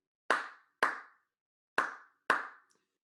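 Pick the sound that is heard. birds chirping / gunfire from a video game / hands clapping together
hands clapping together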